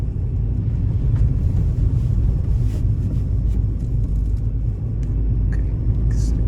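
A Mini Cooper with a newly installed clutch coasts along the road. A steady, loud low rumble of road and drivetrain noise fills the cabin throughout, with faint higher rattles and no voices.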